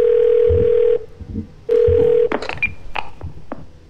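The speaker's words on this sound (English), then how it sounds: "Oh, dial emergency number." A phone in the video game Twelve Minutes dials an emergency number: a steady tone plays, cuts out, sounds again, then gives way to short beeps and clicks.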